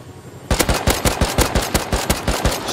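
An AK rifle firing in the survival game Rust, a loud close burst of about a dozen rapid evenly spaced shots after a brief quiet moment, with no talking.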